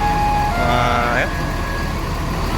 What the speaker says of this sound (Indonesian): Mau mundur bunyi kayak gini ya.